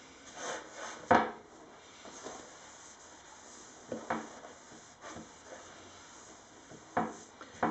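A rag wipes down sanded wood furniture in a quiet room, with a handful of short, soft rubbing swipes and scuffs spaced apart, and faint stillness between them.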